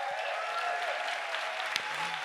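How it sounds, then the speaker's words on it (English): An audience at a science slam event in Berlin applauds the sound and light crew with continuous, even clapping that stays steady and moderately loud over the short stretch. "Please give a big applause for sound and light."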